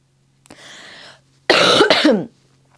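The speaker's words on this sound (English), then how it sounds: "there probably will be a bit of coughing in this video" A short breathy throat sound, then a louder harsh cough burst in two close pulses, near and alone without talk.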